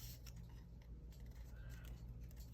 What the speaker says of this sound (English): Let's see about fussy cutting this, if I can find my fussy cutting scissors.